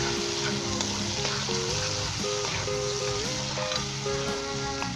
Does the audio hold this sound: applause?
no